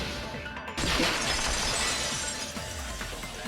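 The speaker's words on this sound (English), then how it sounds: "If it wasn't the window, then what broke to make that sound? A vase." A vase shatters in the Danganronpa 2 video game, a sudden loud crash of breaking ceramic that bursts in after a brief lull and then rings and scatters into a lingering debris noise.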